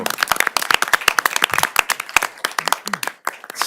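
Brisk applause at a transit commission meeting: dense, steady clapping from a small audience that carries on for the whole stretch.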